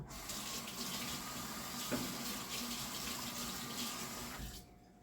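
A kitchen tap runs steadily into a sink while hands are washed before baking a sponge cake, giving a continuous close splashing hiss that cuts off abruptly near the end.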